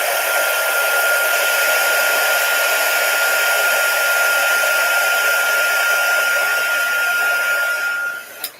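A hair dryer blows steadily at close range to dry a Christmas garland transfer, a loud continuous whine and rush of air that cuts off near the end.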